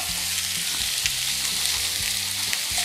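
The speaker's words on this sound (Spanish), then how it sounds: "Tomamos nuestro filete en cubo, colocamos en nuestra sartén y comenzamos a sellarlo por todas sus caras." Cubes of beef fillet sear in a frying pan, giving a loud, steady close-up sizzle with a few brief stirring knocks and no voices.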